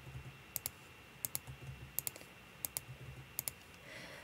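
Sharp paired clicks of a computer mouse and keys while modeling in Blender, five quick double taps spaced under a second apart over a faint hum, close and quiet with no talking.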